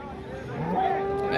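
A cow at the Modnimb livestock market lets out a low, drawn-out moo close by, rising slightly then holding steady over faint background noise.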